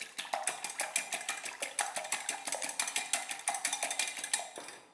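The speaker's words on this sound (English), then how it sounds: "Just whisk it along." A wire whisk beats four eggs in a bowl with fast, steady metallic strokes, about four or five clicks a second. The whisking is close and fairly loud, with no talking.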